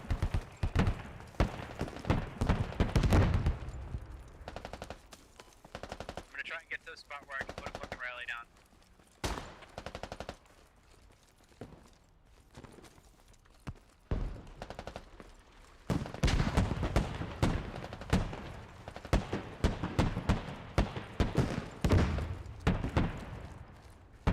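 Machine gun fire and scattered gunshots in the military shooter game Squad: long dense bursts of rapid cracks, then a quieter lull with a few shots, then heavy firing again, with a voice speaking over parts of it.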